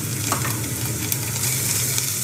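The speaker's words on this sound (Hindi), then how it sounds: "एक मिनट सौते कर लेंगे।" Onion sautés with garlic and ginger paste in a pan over medium heat for a masala corn dish, making a loud, continuous frying sizzle with faint stirring scrapes underneath, heard up close with no voices.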